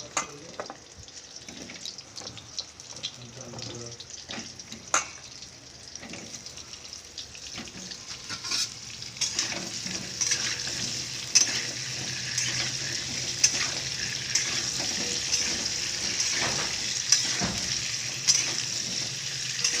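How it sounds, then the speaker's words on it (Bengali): Potatoes seasoned with salt and turmeric fry in oil, a soft, steady sizzle with occasional utensil taps that grows louder and fuller partway through. "এতে একটু নুন, হলুদ দিলাম, একটু হলুদ দিলাম, একটু নুন দিলাম, দিয়ে এবার আলুগুলো আমি ভাজবো"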